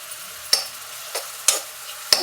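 Ingredients fry in oil over a low flame in an iron kadai, a steady soft sizzle broken by four sharp clinks of a spoon against the pan, spaced evenly, close and alone.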